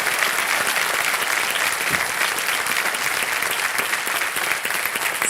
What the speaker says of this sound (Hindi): एक बार जोरदार तालियां फिर हो जाएं कविता जी के लिए